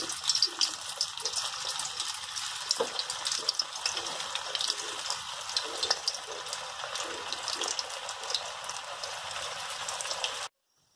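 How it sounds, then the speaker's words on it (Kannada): Cabbage manchurian balls deep frying in hot oil, a steady close sizzling hiss that runs without pause and then cuts off abruptly near the end. "ಎಣ್ಣೆ ಕಾದ್ಮೇಲೆ ಉಂಡೆ ಮಾಡಿ ಇಟ್ಕೊಂಡಿರ್ತೀವಲ್ಲ, ಇದನ್ನು ಹೀಗೆ ಹಾಕಬೇಕು. ಒಂದೊಂದೇ ಇದು ಫುಲ್ಲು ಬ್ರೌನಿಶ್ ಬರಬೇಕು. ಡೀಪ್ ಫ್ರೈ ಮಾಡ್ಕೋಬೇಕು."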